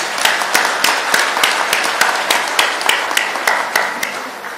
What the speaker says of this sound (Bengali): সবাই মিলে আপনার জোরে হাততালি দেন।